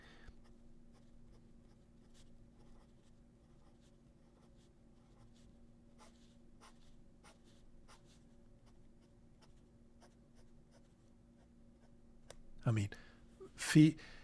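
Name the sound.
fountain pen nib writing on paper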